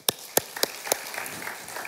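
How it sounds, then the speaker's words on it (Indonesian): A church congregation at a Sunday service breaks into applause, opening with a few sharp, separate claps that quickly thin into scattered, lighter clapping over about two seconds. "Berikan tepuk tangan untuk Tuhan Yesus."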